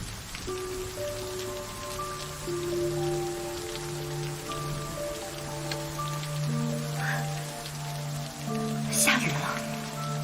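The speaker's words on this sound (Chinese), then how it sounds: "下雨了。" Rain falls steadily as a soft, continuous hiss, heard under sustained music with a brief sharper sweep near the end.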